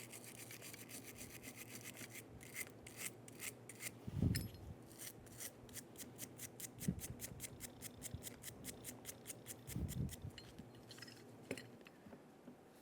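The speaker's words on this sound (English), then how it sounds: "On the other side, I'm going to clean where the other pad is going to sit." Cleaning the pad seat on a 2000-2007 Ford Focus rear brake caliper bracket: quick repeated scrubbing strokes of a brush on metal, close and fairly quiet, with a few heavier rubs and scrapes.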